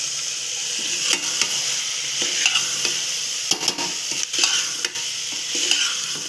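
Peas and potatoes sizzle and fry in oily masala gravy while a spoon stirs them, with a steady close hiss and occasional scraping clicks against the pan, no talking.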